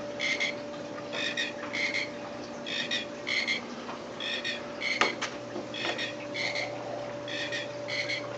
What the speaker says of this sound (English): So when that guy starts croaking and it gets annoying, it's time to fill this thing up.